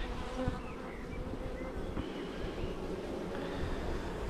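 Honeybees buzz steadily around an open home hive during a first spring inspection in March, with a few drones among them, making a close, continuous droning hum with individual bees passing by.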